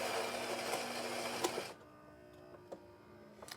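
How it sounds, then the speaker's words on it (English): The ceramic burr grinder of a Gaggia Anima espresso machine runs with a steady, fairly loud whirring for under two seconds, then shuts off, leaving a quiet background with a few faint clicks. "You hear that grinder running."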